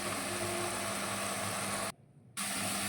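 A pot of lau chingri, a curry of bottle gourd and prawns, boils with a steady hiss and bubbling. The sound drops out briefly partway through, then returns.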